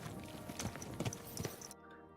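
Horse hooves clip-clop steadily at a walk in Kingdom Come Deliverance II, close and fairly loud, with faint background ambience and no talk.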